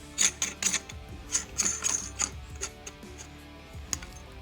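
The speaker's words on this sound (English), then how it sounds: "Now we can take our castle nut and thread this down" A castle nut is threaded onto the rear of an AR buffer tube mount, making a quick series of close, light metallic clicks and scrapes that come in uneven bursts.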